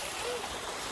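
Outdoor waterfall pouring into a pool, a constant broadband rush of falling water, loud and close, filling the short moment without pause.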